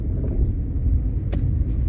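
A Tata Tiago creeps along in second gear with no accelerator pressed, giving a steady low engine and tyre rumble close by, with one brief soft knock partway through.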